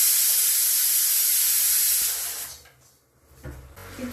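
Dal and rice fry in a pan for khichuri with a loud, steady hiss that lasts about two and a half seconds, then drops away to near quiet, and a few soft clatters of the pan follow at the end.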